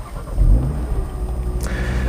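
A 2022 Audi RS3 engine turns over and starts, giving a low rumbling burst that settles into a steady idle hum, close by and with no talking.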